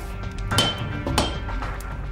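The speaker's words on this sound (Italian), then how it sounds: "Riscaldare l'acciaio a 1300 gradi lo prepara al martellamento, che unisce tutti i pezzi in uno solo." Heated steel is hammered while a samurai sword is being forged, two sharp metallic clanks about half a second apart ringing over a steady low roar, close and moderately loud.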